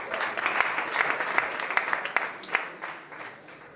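An audience at a healthcare and biotech startup competition at South Summit 2017 claps. Scattered, distinct hand claps rise and then thin out over a few seconds.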